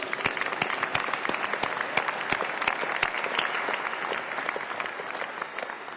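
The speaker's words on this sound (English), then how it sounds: "give him a round of applause" A graduation ceremony audience claps steadily throughout, dense and fairly close, with no voices rising above it.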